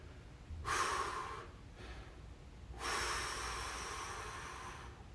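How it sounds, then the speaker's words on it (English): Heavy breathing during a stick mobility stretch in a workout class: two long, forceful breaths, a sharp inhale then an extended airy exhale, close to the microphone with no speech. "Focus on your breathing."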